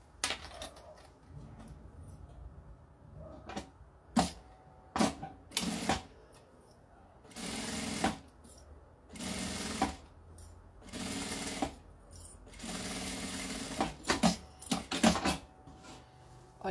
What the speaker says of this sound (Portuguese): eu vou na máquina passar uma costurinha aqui,